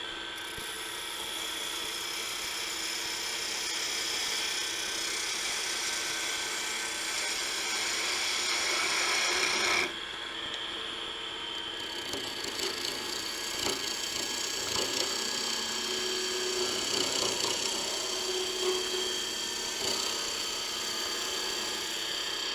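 Wood lathe turning a scoop, a steady high whine and hum from the spinning workpiece running close by throughout, with gouge scraping texture, a brief change around the middle and no talking.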